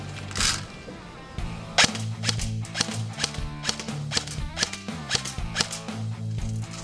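A King Arms VSS Vintorez airsoft rifle test firing, a string of sharp snapping shots at an irregular rhythm, close and loud over a steady low hum.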